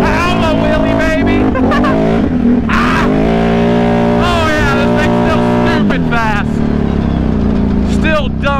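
A four-wheeler ATV with big tires revs hard during a wheelie, its loud, close engine rising and falling through several throttle bursts, with people talking over it.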